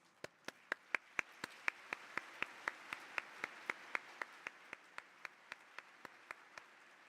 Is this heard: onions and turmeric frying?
no